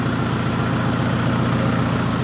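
A 2011 Hyundai Genesis Coupe engine idles steadily on its own, a constant low rumbling hum at close range with no break or change across the short stretch.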